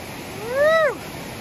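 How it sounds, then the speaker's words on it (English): A wide river along the Appalachian Trail rushes with a steady, even hiss, and a brief whistling call sweeps over it midway. "This is a nice wide river here. So much cool flow going on down here."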